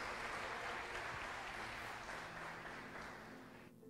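A church congregation applauds during a sermon, a dense wash of clapping from many hands that stays full for a few seconds, then thins and fades toward the end.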